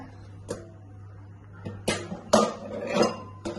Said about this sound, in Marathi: आता आपण कुकर उघडून बघूया।